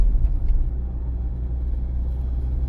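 A car driving at about 40 km/h along a city driving exam route, heard from inside the cabin as a steady, loud low engine and road rumble with no speech.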